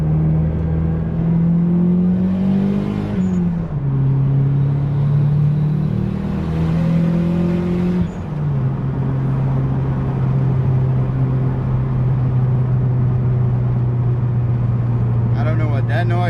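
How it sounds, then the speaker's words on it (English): Toyota Supra fitted with an Eclipse exhaust accelerating hard through the gears, a loud, continuous engine drone that climbs in pitch, drops briefly at each shift and climbs again, heard from inside the car. "I'm gonna try to boost through the gears"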